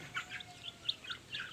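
Chicks chirp in a backyard while sunning themselves, a quick scatter of high, thin peeps from several birds close by, fairly quiet and with no voices.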